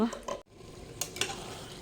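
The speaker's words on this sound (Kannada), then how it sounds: "ತೊಳೆದಿರೋ ಅಕ್ಕಿ ಹಾಕ್ತಾ ಇದ್ದೀನಿ ಇದನ್ನು ಸ್ವಲ್ಪ ಹುರ್ಕೊಂಡು" Washed rice being stirred and fried in a pot over a wood-fired stove for pulao, a soft sizzle with scraping stir strokes, fairly quiet and close, with a brief pause partway.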